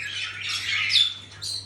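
Lovebirds at an aviary give a short burst of shrill, close squawks, two harsh calls in quick succession with faint chirps and no voices.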